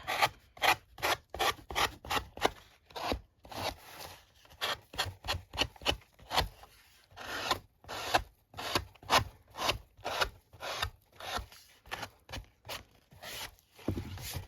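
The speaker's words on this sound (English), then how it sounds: "use the sanding block to get a nice fit" Rapid back-and-forth rasping strokes of a sanding block on an altered board book, close and rhythmic, continuing for several seconds with brief pauses.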